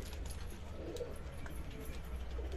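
Pigeons coo softly in a loft, with several low, muffled coos overlapping against a faint background hum.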